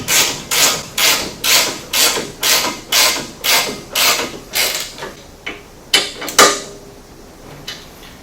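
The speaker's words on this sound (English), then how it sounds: "I'm going to go ahead and tighten these two lower bolts." A ratchet wrench tightens the lower bolts on a RacerTech rear bumper of a 900S with a loud, regular clicking burst about twice a second, ending in a few slower, uneven clicks.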